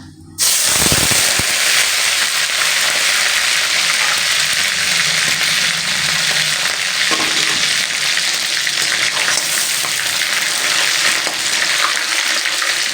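Fish oil sizzling loudly after being poured into a hot pan, a dense, continuous crackling fry that starts abruptly and holds steady close up, with occasional stirring scrapes.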